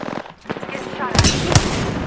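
Video game gunfire aimed at the player comes as rapid, sharp bursts of shots, close and loud, with a voice talking between the volleys.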